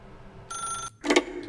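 A telephone rings in the video game The Stanley Parable: Ultra Deluxe, a loud electronic ring that stops briefly and then starts again, close and clear with no talking.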